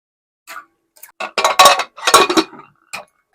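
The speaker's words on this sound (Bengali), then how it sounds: "প্রথমে আমি আবারও ধুয়ে প্রেসার কুকারে দিয়ে দিচ্ছি।" Washed lentils going into a pressure cooker in a kitchen, a series of short metallic clinks and clatters in quick bursts, close and fairly loud against silence.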